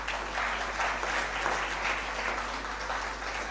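Steady, dense audience applause for research scholars and their mentors at a formal address, sustained and fairly loud throughout with no voices over it.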